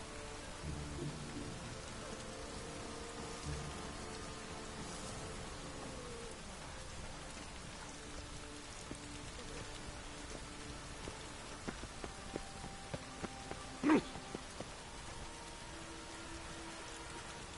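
Rain falling in The Witcher video game, a soft, even hiss of steady rainfall spread across the whole stretch, with a few faint louder drips or taps near the end and a low rumble underneath.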